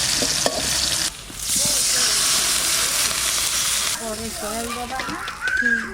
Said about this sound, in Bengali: লবণ জল দিয়ে দেবো